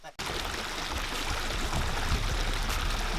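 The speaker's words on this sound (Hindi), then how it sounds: "तो ये पानी जाता है यहाँ से सीधा, तो वहाँ से नीचे वाटरफॉल है।" A mountain stream near Doma village flows steadily toward Muktai waterfall, producing a continuous, loud broadband rush of water with no pauses throughout.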